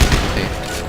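Gunfire in Dead Space 3 erupts as a dense, continuous burst of rapid shots, loud and close, with no voices over it.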